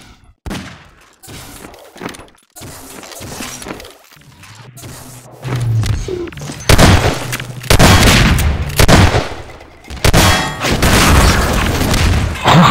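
Rocket explosions in the shooter Half-Life 2 Deathmatch: a string of loud booming blasts with shattering crackle, some isolated and some bunched in quick bursts, over a low game hum.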